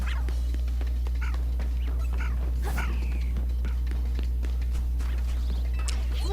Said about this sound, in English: She must have found something really good to go bark at